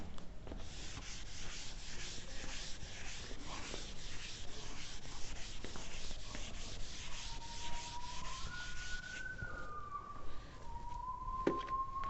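Rubbing on a board during an engineering lecture, a continuous scratchy back-and-forth scrubbing at low volume in a quiet room, with a few faint squeaks near the end.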